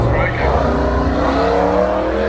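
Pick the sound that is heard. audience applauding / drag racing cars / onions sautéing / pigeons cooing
drag racing cars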